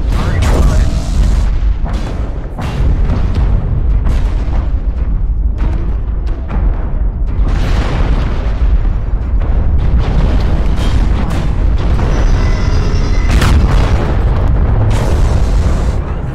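Heavy booming weapon fire from Gauss rifles in MechWarrior Online, with repeated loud blasts and impacts over dense battle noise and someone talking through it.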